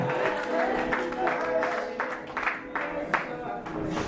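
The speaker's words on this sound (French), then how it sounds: "Acclamons pour le Seigneur" A church congregation claps and acclaims the Lord in lively bursts, mixed with voices and a sustained musical tone beneath, the applause swelling in waves.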